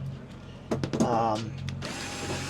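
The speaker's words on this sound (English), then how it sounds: "I'm drilling these holes right now" A power drill whirs briefly in short bursts, drilling holes aboard a rocking boat, rising and stopping, then a steady hum continues close by.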